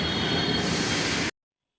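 A metro train at a Delhi station roars and rumbles loudly with a high metallic squeal, then the sound cuts off abruptly.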